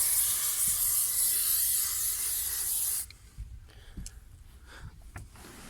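Würth silicone spray hisses steadily and loudly onto a car body and tires for about three seconds, then cuts off, leaving faint handling noises in a quiet space.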